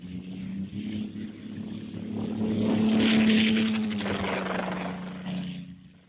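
A Messerschmitt fighter dives steeply during an air battle over Britain in 1940, its engine a loud sustained droning roar that swells to a peak and then fades slightly.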